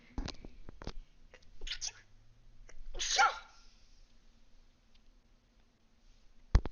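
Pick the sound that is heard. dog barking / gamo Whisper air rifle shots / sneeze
sneeze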